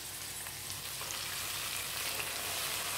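Ghee-fried cashews, raisins and coconut bits poured over broken wheat payasam give a faint, steady crackling sizzle, soft and even throughout with no voices.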